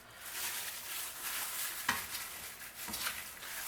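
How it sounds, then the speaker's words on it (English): Balsamic chicken is stirred in a vinaigrette sauce, giving wet sizzling and scraping with a few sharper spoon strokes against the pan, close up and with no talking. "I like to give it a good stir just so that way it gets the sauce on it."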